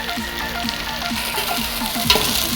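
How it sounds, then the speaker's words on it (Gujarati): Okra sizzles in hot oil while being stirred, a continuous close frying hiss broken by repeated scraping strokes of a spoon against the pan, with no talking. "તેલમાં ભીંડાને આવી રીતના ફેરવવાની"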